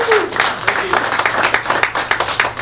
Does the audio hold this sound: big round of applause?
yes